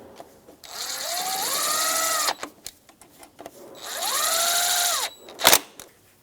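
On a 2004-2009 Subaru Outback, pulley bolts are driven in with a 12mm socket on a power tool, heard as two close, loud whirring bursts that rise in pitch, with small clicks and clunks between them.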